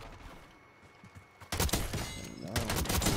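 Rapid video-game gunfire erupts in dense bursts, loud and continuous, after a quieter stretch of background game noise.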